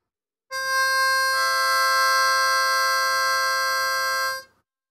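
Harmonica four blow played unclean, spilling into the fifth hole so two reeds sound at once, giving a harsh, buzzy chord-like tone held steadily for about four seconds, loud and alone.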